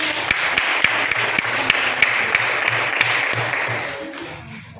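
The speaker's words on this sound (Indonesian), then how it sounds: "berikan tepuk tangan untuk" A classroom of students claps for a group, steady scattered applause with a few sharp individual claps standing out, tapering off toward the end.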